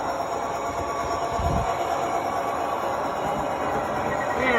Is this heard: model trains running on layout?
yes